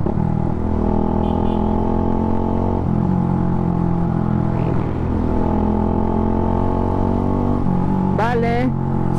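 A Suzuki Gixxer 155fi motorcycle engine revs loudly and steadily near the listener during a downshift rev match, with a sharp rising blip of throttle near the end and someone talking over the running engine.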